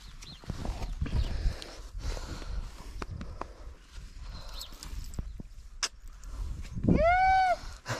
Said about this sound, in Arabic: اجمل حصان عندي انا